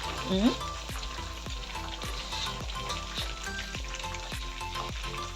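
Chicken pieces fry in hot oil while being turned, a steady close crackling sizzle with regular soft pops and a louder stir of movement near the start.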